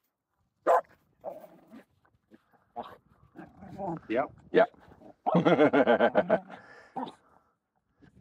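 Aamu the dog barks and whimpers playfully in the snow, in short yelps and then a fast run of rapid barks, close by, with a person speaking briefly between them.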